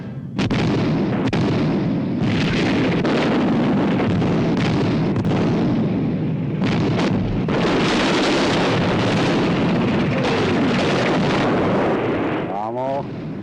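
Loud, dense battlefield barrage of artillery and gunfire in a war film trailer, with repeated booming blasts and bursts running continuously throughout, rising to a heavier wall of explosions in the second half.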